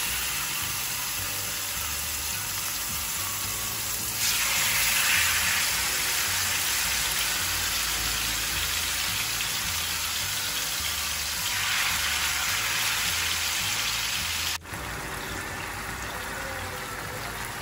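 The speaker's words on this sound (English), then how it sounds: "we fry the pasanday on very medium low flame" Marinated beef pasanday fries over a medium-low flame, giving a dense, steady, close sizzle that swells slightly in places and shifts briefly near the end.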